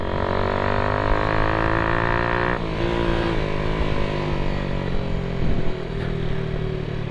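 A Hi Speed Infinity 150 motorcycle runs with a steady engine drone and slight pitch shifts as it rides, its tone dropping around the middle as it slows, with no talk over it.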